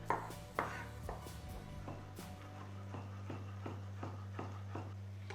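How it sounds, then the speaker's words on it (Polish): Knife chopping young garlic cloves on a board, a series of quiet, fairly regular taps over a low steady kitchen hum. "Od razu posiekam cztery niewielkie ząbki czosnku."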